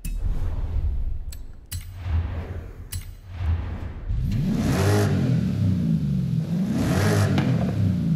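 A naturally aspirated Ford Mustang engine is started and revved twice, each rev rising and falling in a loud, throaty sweep over a steady rumbling idle. There is no talk.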